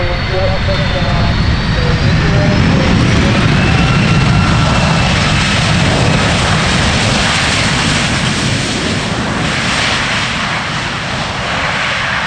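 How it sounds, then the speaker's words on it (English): A fixed-wing airplane lands at the EAA AirVenture Oshkosh fly-in. Its engine roar is loud and close and stays steady and unbroken through the whole stretch. "The plane just touched down."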